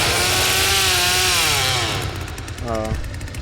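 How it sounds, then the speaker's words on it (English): Leatherface's chainsaw in The Texas Chainsaw Massacre video game roars loud and close with a revving, whining engine, then drops off as a voice speaks over the tail. "the chainsaw, I see it's like, the bad part is the fact that they'll know that I'm coming because it's making noise"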